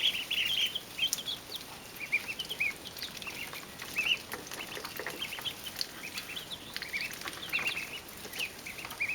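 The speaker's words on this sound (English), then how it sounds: "The chickens were freaking out because they thought the food trough was over here" Chickens cluck and squawk repeatedly in short bursts, with ducks and other birds chattering around them in a noisy farmyard.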